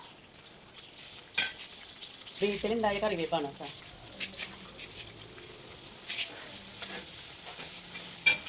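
Sliced onion sizzles faintly in hot oil for chicken biryani, broken by a few clinks and scrapes of a spoon stirring the pan while someone speaks nearby.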